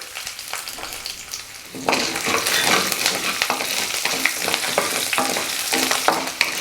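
Garlic and ginger sautéing in oil for a coriander tomato chutney, a quieter sizzle that jumps louder about two seconds in as more goes into the pan, then a dense steady crackle with stirring scrapes, no voices.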